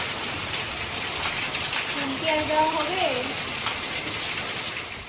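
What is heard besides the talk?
rain falling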